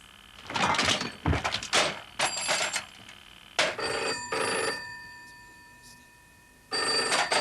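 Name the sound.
telephone bell ringing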